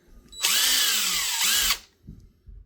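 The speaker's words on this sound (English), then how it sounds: "So this is my first impact drill." A DEWALT 20V MAX cordless impact drill runs in one loud whirring burst of just over a second, its pitch dipping briefly mid-run before it spins down into quiet.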